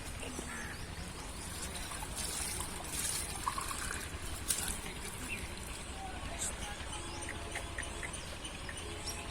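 Water runs from a solar DC pump borewell line at a Pakistani village home, a steady splashing trickle throughout, with faint background sounds.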